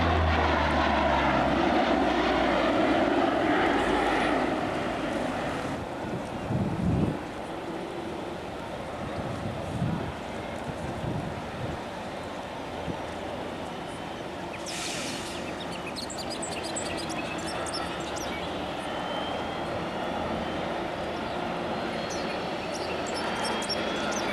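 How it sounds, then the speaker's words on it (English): A small propeller airplane landing at an air show gives a steady, fairly distant engine drone that continues throughout, with no talk. "When he makes his landing, he only has to go about maybe 400 or 500 feet down the runway, and he's stopped."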